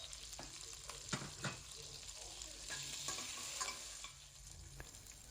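Shallots, green chillies, ginger and garlic frying in hot oil for Bangalore-style donne biryani, a steady sizzle with a few sharp spatula scrapes and stirs, close and moderately loud, with no talking.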